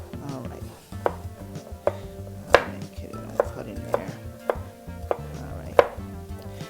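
Celery being chopped with a knife on a chopping board, about ten crisp, evenly spaced cuts over a low steady background with no talking.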